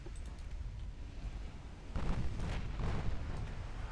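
A torpedo detonates in the naval strategy game Ultimate Admiral Dreadnoughts, a sudden loud, deep booming roar that breaks over a low rumbling backdrop and keeps surging to the end.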